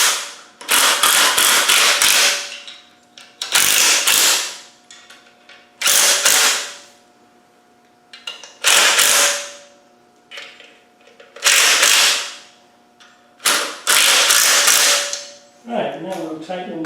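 A power tool tightens bolts on an engine flywheel housing in loud repeated bursts, about seven rattling whirring runs of a second or two each separated by quiet pauses, with a steady hum underneath and brief talk at the end.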